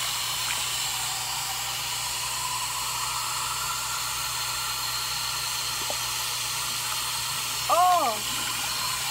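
Joker gas liquid from a Loot Crate can pours out with a steady, loud hiss that runs unbroken throughout, ending with a brief squeaky rise near the close.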